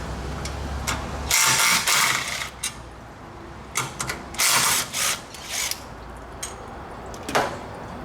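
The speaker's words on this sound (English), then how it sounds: "Now we remove the two 12mm flange bolts." A ratchet wrench backs out two 12mm flange bolts, giving bursts of quick, close mechanical clicking separated by short pauses.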